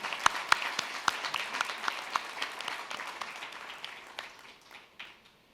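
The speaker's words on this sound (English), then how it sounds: "Can I request that all of us clap to welcome Pumzili here?" A conference audience on gender equality applauds steadily to welcome a speaker, dense clapping that slowly fades out over several seconds with no talking.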